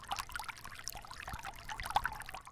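Water trickles and splashes from a homemade stacked rock bubbler fountain in a yard, a steady, close, moderately quiet babble of small pours and drips with no voices.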